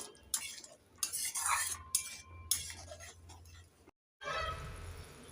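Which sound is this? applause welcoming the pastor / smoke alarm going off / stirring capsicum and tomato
stirring capsicum and tomato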